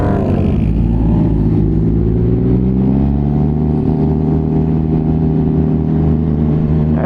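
Motorcycle engine revving and accelerating with the quick shifter switched off, a loud, steady mid-pitched drone with rising and falling harmonics throughout, no talking.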